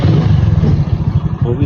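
A first-owner, nearly new motorcycle idles close by with a loud, steady low throb and quick rhythmic pulsing, running alone without talk.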